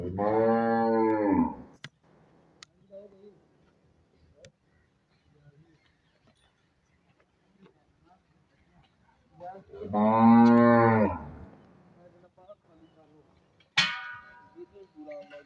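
A Friesian cross cow on a dairy farm moos twice, long and loud, nearby with a quiet pause between calls and a brief metallic clang near the end.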